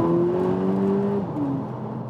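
Interior engine sound of a VW Polo GTI during a downshift: a steady low drone with a clear pitch that holds, then drops sharply and settles at a new level, with no talking.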